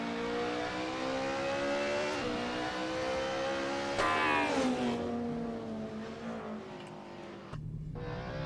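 A drifting race car in a touge racing video game revs hard at the start line, a loud, close engine wail rising and falling through the gears before easing off near the end.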